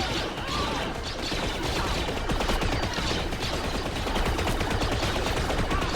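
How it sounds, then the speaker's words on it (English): Continuous heavy blaster gunfire in Star Wars Outlaws during a boss fight against stormtroopers, loud and dense with overlapping shots and impacts throughout, no pauses. "Stop shooting."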